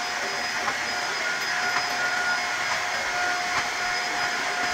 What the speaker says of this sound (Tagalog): naglinis muna ako at ginamit ko yung bagong vacuum